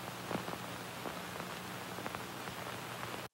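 Vinyl crackle texture laid over a beat as atmosphere, a steady hiss dotted with soft pops and clicks that sounds like light rain, running evenly throughout at a low level with no voices.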